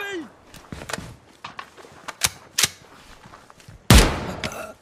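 Gunfire in Ground Branch during a jungle firefight, scattered sharp shots at varying distances followed by one loud close burst near the end, mixed with footsteps and shouted voices.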